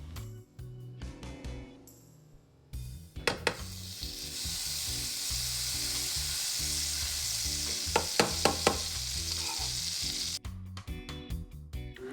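Bacon, shrimp and potatoes fry together in a pan with a steady broad sizzle, broken by a few sharp scraping stirs and clattering touches near the start and toward the end.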